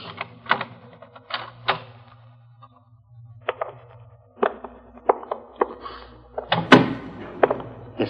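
A door being worked open in an old-time radio drama, a series of loud close knocks, rattles and clunks of the latch and frame, ending in a sharp heavy thud, with no talk.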